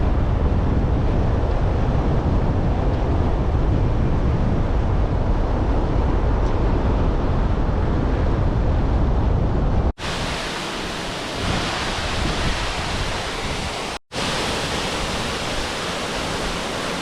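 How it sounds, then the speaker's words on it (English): The South Fork waterfall in the Sierra, beside the highway, roars as a steady, loud broadband rush of falling water with no voices over it, broken by two brief cuts. "this South Fork waterfall is not anywhere near the epic scale that you get in the valley"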